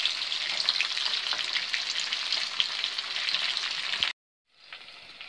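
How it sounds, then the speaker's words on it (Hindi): Chicken pieces fry in hot oil for an Afghani chicken dish, a steady dense sizzle filling about four seconds before a sudden brief silence, then the crackle resumes more quietly as the pieces are turned to the other side. "अब हम इसको दूसरी तरफ से फ्राई करेंगे।"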